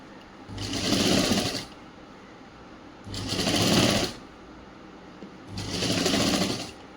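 Sewing machine stitching a school uniform top in three separate bursts of about a second each, a close whirring run that starts and stops with short quiet pauses between.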